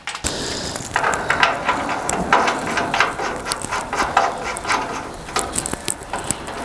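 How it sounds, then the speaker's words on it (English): A ratchet tightens an adjustable jam nut under the bonnet of a Brass Mini 1.8T, giving a steady run of close, busy clicking and mechanical rattling across the whole stretch. "I'll just thread it in all the way for now."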